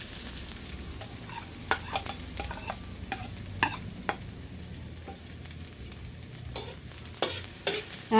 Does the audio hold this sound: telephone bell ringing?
no